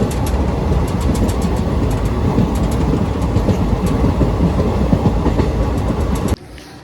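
A train rolls along at a station platform, its wheels keeping up a steady, loud clickety-clack that holds for about six seconds before cutting off abruptly.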